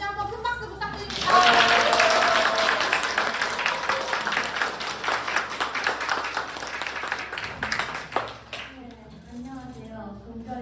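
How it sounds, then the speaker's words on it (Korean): Loud, dense applause from an audience at a 12th-grade internship presentation event at a school, rising quickly and holding steady for several seconds before fading into quieter room sound. "다시 한번 큰 박수 부탁드립니다."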